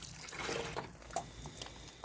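Water splashing and trickling onto cucumber plants and their leaves during garden watering, a short steady pour with small drips, close and alone.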